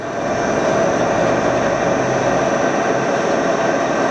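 A 43-inch Defum vertical turret lathe running at speed gives a loud, steady, broadband roar with a constant tonal hum, close by and unbroken, with no talking.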